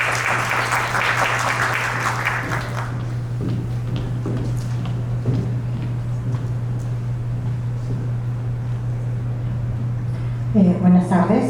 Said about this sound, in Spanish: Demos un aplauso